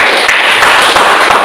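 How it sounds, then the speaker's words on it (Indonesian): A school class applauds together, a dense, loud, close wash of hand claps that fills the moment evenly, with no voices heard over it. "Ya, silakan tepuk tangan."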